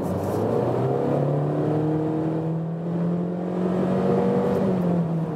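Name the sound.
2019 Honda CR-V CVT accelerating from 70 to 100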